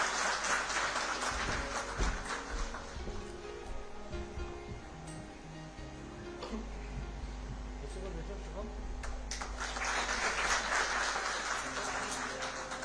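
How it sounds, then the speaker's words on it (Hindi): Audience applause at the 2022 Uttar Pradesh police bravery award ceremony, fairly quiet and sustained, with talk and other hall sounds blended in and a fuller swell of clapping toward the end. "एक बार जोरदार तालियां।"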